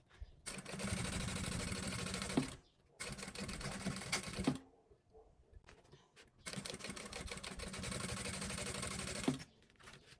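Sewing machine backstitching along the plastic teeth of a zipper on a child's roll-style cosmetic pouch, running in three steady mechanical bursts of rapid stitching separated by brief pauses, close and fairly loud with no talk.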